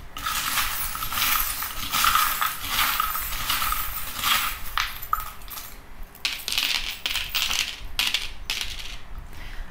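Small metal tarot charms are cast and tumble together in a steady, loud jingle of clinks and rattles. The sound runs continuously and thins into scattered, sharper chinks near the end.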